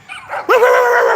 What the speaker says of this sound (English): I think all dogs are funny.